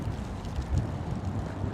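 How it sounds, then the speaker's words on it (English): Steady low rumbling wind buffeting a microphone on a brisk, windy day in Central Florida, a continuous muffled roar with a brief stronger gust partway through. "it is a brisk, windy day here in Central Florida again"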